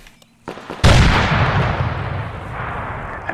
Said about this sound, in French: Attention, impact mortier.